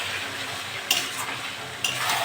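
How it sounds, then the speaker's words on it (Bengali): Chicken pieces with potatoes sizzle steadily in a pan while a utensil stirs them, with two sharp metallic scrapes against the pan over the constant frying hiss. "এরকম করে ভালো করে কষে নেবো মাংসটা।"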